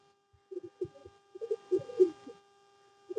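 Deshi golla pigeons coo softly and close by in short repeated phrases, a few soft bursts separated by brief pauses over a faint steady hum.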